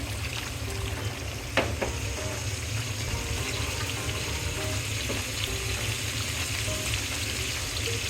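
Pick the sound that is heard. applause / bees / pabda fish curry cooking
pabda fish curry cooking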